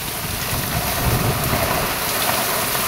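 Heavy rain pours steadily during flooding in a Philippine town, a dense, continuous roar of water close by with a low rumble beneath, no voices.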